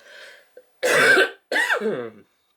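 Two harsh coughs close to the mic after a short breathy sound, then quiet.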